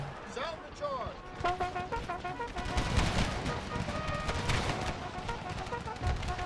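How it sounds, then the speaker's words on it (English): Rapid Gatling gun fire crackles from the rear lines during a large Empire: Total War battle in the Brothers vs. Brothers Civil War mod, with dense bursts of shots and battlefield noise running throughout, mixed under constant speech. "Oh, those are Gatling guns back there."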